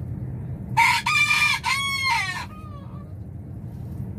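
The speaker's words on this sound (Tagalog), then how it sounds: "Ang ingay din itong manok na to." A rooster crows nearby in a loud, drawn-out call that trails off, over low rumbling background noise.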